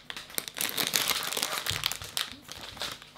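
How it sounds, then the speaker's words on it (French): A plastic packet of candy is torn open and handled close by, giving dense crinkling and rustling with sharp crackles throughout and no talking. "Allez, vas-y, ouvre-moi ce paquet, tiens."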